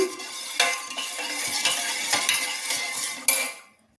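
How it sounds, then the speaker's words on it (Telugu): A spoon stirs ragi porridge mixture with buttermilk in a pot, scraping and clinking against the metal in steady repeated strokes, close and moderately loud, with no talking. "ఈ విధంగా కలుపుతూ ఉండాలి"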